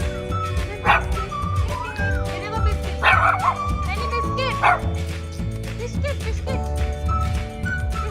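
A small dog barks repeatedly in short, high yips, with some whimpering, at a dog café, mixed with background voices and music.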